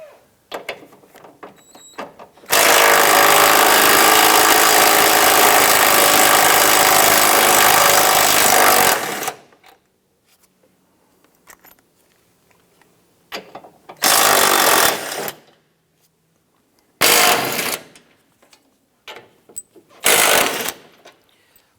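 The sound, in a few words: power tool loosening strut tower brace bolts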